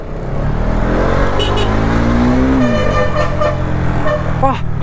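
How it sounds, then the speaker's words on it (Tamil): A car or other motor vehicle comes up the road, its engine rising in a revving whine that swells as it nears and then passes. A horn-like tone sounds near the end, and voices are faintly present. "வண்டி வருது இல்லை?"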